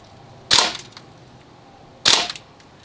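Two sharp airgun reports from an Umarex M1A1 firing at K-Cups, about one and a half seconds apart, each a loud crack with a short decaying tail over quiet background.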